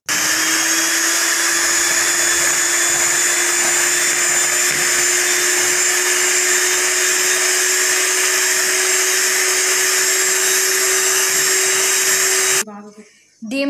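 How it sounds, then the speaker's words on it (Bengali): Two eggs whisked with an electric hand mixer in a mixing bowl for brownie batter, a loud steady motor whine holding one pitch for about twelve seconds before cutting off abruptly. "একটা মিক্সিং বোলে প্রথমে দুটো ডিম নিয়ে নিয়েছি। এবার এই ডিমটাকে খুব ভালো করে ফেটিয়ে নিতে"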